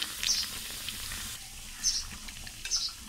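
Maggi pakoda coated in besan fries in oil over a low flame, giving a faint, steady sizzle with a few light bubbling pops, close by and without talking.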